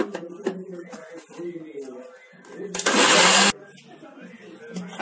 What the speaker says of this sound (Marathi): मिक्सरला चांगलं वारूया।